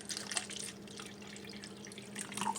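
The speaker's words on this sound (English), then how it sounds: "add a cup of water here to my cup" Water from a tap runs into a cup while an iced matcha latte is being made, a steady close trickle with small splashy drips and no talk.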